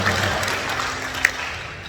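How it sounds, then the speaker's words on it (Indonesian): An indoor audience at a talk claps in a brief burst of steady applause, a sustained patter of many hands lasting about two seconds. "Boleh kita berikan tepuk tangan Bapak Ibu luar biasa"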